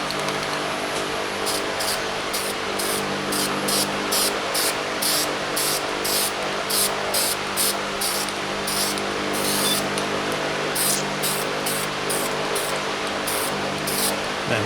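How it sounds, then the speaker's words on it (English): A spray paint can hisses steadily throughout while painting a 1977 Camaro Z28 hood part, broken by repeated short bursts in a loose rhythm, close and fairly loud with no voices. "I'm really not very good with spray cans."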